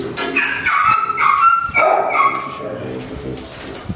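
A dog yips and whimpers in a run of high, whiny barks, close and fairly loud, with a person speaking in the background.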